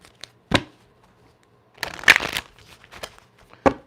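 A deck of cards is shuffled, with a short riffle and flutter of cards, quick and close, among a few light taps.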